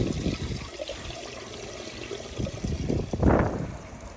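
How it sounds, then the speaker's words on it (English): Water runs and trickles through a boiler heating system during a hot flush, a steady close wash with brief surges and a stronger gush near the end, no talking. "that's a hot flush again that we're doing now"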